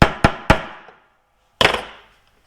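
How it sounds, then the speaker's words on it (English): A multifunction automotive wiring tool used as a hammer, giving three quick sharp metallic strikes followed by a pause and a final heavier knock, loud and close. "you can use it as a hammer in an emergency"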